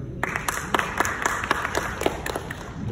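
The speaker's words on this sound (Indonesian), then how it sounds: "Dengan aplaus untuk beliau" An audience at a formal tax dialogue event applauds to welcome the mayor's representative, with a steady patter of many hands clapping at moderate distance and scattered sharper claps throughout.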